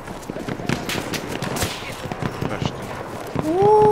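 Gunfire in the Battlefield 1 video game, heard as bursts of rapid shots and distant battle noise, with a rising tone near the end.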